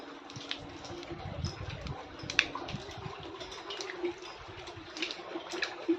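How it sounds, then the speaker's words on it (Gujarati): River water flowing and gurgling past a Shiva lingam at the Bhuleshwar Mahadev temple, Bhimdeval, a steady close wash with small splashes and drips throughout, without talking. "અને આ નદી વહી રહી છે અહીંથી, ખળખળ નદીનું પાણી રહ્યું છે"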